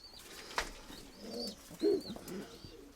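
Pigeons in a loft with new red-checkered squabs coo softly in a few low phrases, with faint chirps and a brief flutter, close and quiet.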